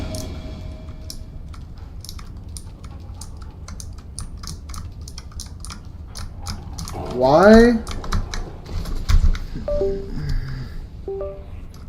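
Rapid clacking keystrokes on a malfunctioning computer keyboard, steady and close, with a brief spoken word and a short burst of game sound partway through.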